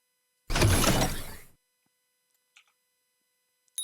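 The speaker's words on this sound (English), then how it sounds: "The door to the yellow room and torch pedestal opened, causing the noise you heard." In a video game, a door to the yellow room and a torch pedestal mechanism open with a loud grinding, rattling burst lasting about a second, then fade into silence broken by a couple of small clicks.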